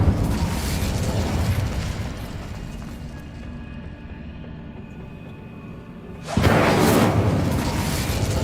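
An Incendio fire spell cast in Hogwarts Legacy, a roaring burst of flame that fades to a low rumble, then a second loud whooshing blast near the end, close and with no talk.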